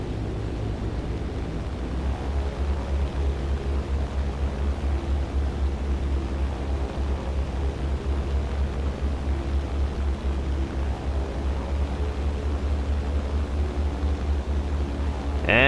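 Multi-engine droning of a B-17 bomber in flight in the game War Thunder, a steady dense roar with a constant low hum, continuous and loud without speech.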